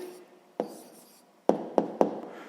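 Hand writing an answer for a sixth-grade math exercise: a faint pen scratch, then four sharp, close taps and strokes on paper, spaced apart with quiet gaps between them.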